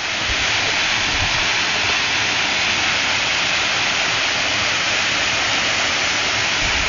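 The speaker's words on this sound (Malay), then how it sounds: "Inilah air terjun." Waterfall on Gunung Kledang pouring steadily, a dense broadband roar of falling water that stays loud and unbroken throughout, with no voices over it.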